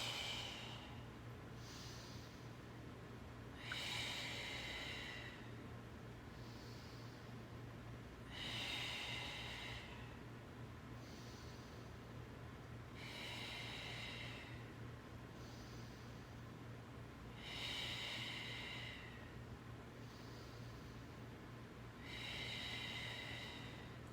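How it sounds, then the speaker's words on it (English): Slow, deep yoga breaths move in and out through the nose, each airy rush rising and falling in a steady cycle about every five seconds, close and soft over a faint low hum. "Deep breaths in, deep breaths out."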